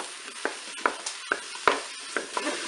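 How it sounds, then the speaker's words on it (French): Mushrooms get stirred inside a Cookeo multicooker on its browning setting, with a soft sizzle under a handful of distinct spoon scrapes and clacks at an irregular pace, close by. "Je vais ajouter mes champignons. Je vais mélanger."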